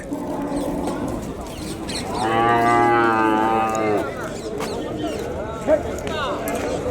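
Cattle at a livestock market low with a long, loud moo in the middle, backed by the steady murmur of a crowd and people talking nearby.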